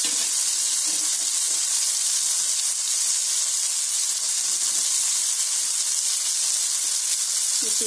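Spice paste fries in a pan, giving a loud, steady sizzle with bursts of hissing steam and occasional soft stirring scrapes throughout, no voices.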